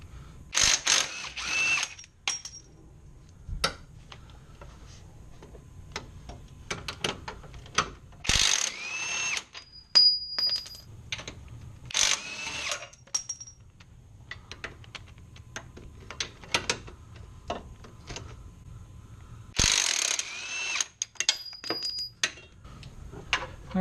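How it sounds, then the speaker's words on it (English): Ratchet wrench loosening subframe bolts on a car, with bursts of fast clicking ratchet strokes, occasional metallic clinks and pauses between bolts, close and clear. "so now we can safely remove these last 4 bolts"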